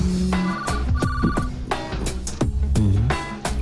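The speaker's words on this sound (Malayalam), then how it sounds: "phone anti phone" A telephone rings in a home, with repeated bursts of ringing separated by short gaps; the ringing is fairly loud and steady, with music underneath and no talk.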